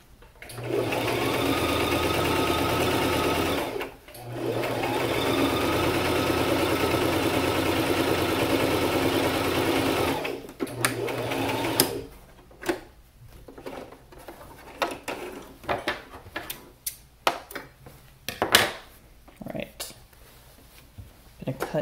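Sewing machine stitching fabric for a face mask runs in two long, loud steady bursts of motor whirring with a short pause between, then stops and gives way to scattered handling clicks and rustles.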